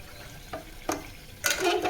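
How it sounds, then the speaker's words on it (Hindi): Chicken frying in a pan for korma, a soft sizzle broken by three quick scraping stirs of a spoon, the last one longer and louder, heard up close without talk. "चिकन अच्छी तरीके से भून चुका है"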